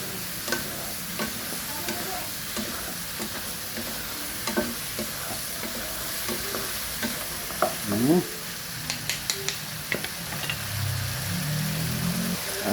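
A spoon stirs tinolang manok, chicken soup with chicken powder, in a pot over a steady simmering hiss, with scattered scrapes and knocks against the pot and a heavier stir near the end.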